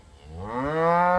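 A single cow on a farm ranch lets out a close, loud, rising moo that swells and holds for about a second.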